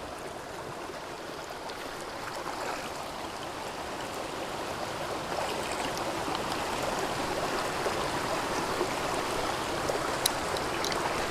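A flowing stream at a water-collection spot outdoors, a steady, close, continuous wash of running water that stays even throughout with no voices.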